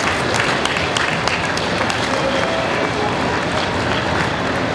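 Audience at a costume contest claps in a steady, dense wash of applause, loud and continuous with scattered sharper claps throughout.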